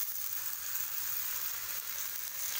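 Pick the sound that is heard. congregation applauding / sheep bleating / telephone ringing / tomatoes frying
tomatoes frying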